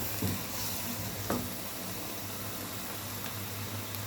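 Palak chicken masala frying in ghee in a pot while being stirred, a soft continuous sizzle with occasional faint scraping strokes of the spoon, low and steady throughout.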